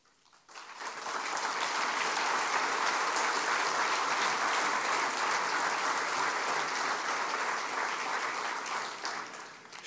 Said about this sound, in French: Je pense que les applaudissements leur font chaud au cœur à tous ceux qui sont concernés